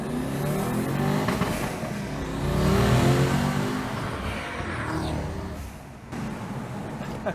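A Ford Focus fitted with a V8 engine revs and accelerates while driving, a deep throaty roar swelling in the middle then easing off, with a brief lift near the end.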